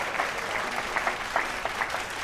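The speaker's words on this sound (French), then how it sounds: "sous les applaudissements nourris de son public" Steady applause from the audience at a fashion show competition, dense clapping sustained throughout with a few sharper bursts, moderately loud and without talk.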